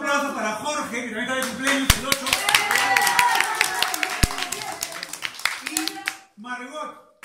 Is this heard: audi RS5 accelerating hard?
no